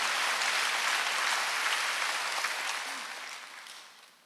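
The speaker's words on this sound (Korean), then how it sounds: "박수하세요" Congregation applauding during a Wednesday church service, a steady wash of many hands that stays strong and then fades gradually toward the end.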